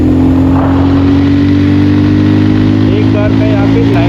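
A Bajaj Pulsar 220F motorcycle pulling hard in fourth gear, its engine a loud, steady drone with rushing wind noise throughout, and someone talking over it.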